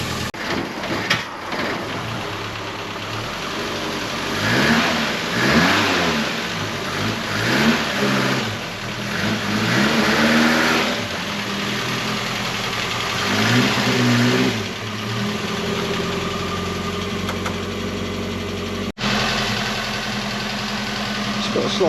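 Ford Escort Mk1 engine with a slight misfire, running close by in a steady uneven idle broken by several rising and falling revs, with a voice briefly heard under it.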